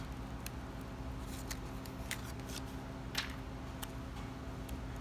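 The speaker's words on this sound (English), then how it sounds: "I've got rid of the tape. Pull the paper back. Peel it off." Masking tape and paper peeled and pulled back from a freshly painted surface during a DIY paint job: a steady run of dry crinkling, tearing and rustling with a few sharper snaps, close by over a low constant background hum.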